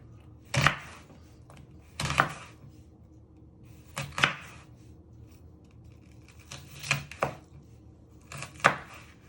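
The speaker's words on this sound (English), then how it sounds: "So you want nice little slices." A sharp knife slices an onion into fine rings on a board, giving about six crisp, close cutting strokes spaced a second or two apart with quiet gaps between, no voices.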